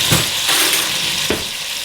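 Onions and garlic sizzling in a pan for beef ragu, a loud continuous frying hiss with a few brief stirring scrapes, close up and no talking.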